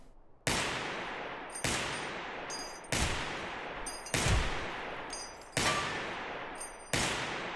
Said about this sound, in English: I'm gonna shoot just the bottles.